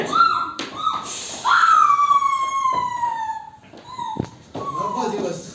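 Dog on stage in a student theatre play, heard as loud, near, high sliding whines and yelps that rise and fall, followed by short whimpers.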